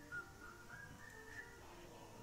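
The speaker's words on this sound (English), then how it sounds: "I wonder if I get copyrighted if I just whistle it." A person whistles a Disney tune at the Seven Dwarfs Mine Train, a soft, thin melody of a few wavering notes over a low background murmur.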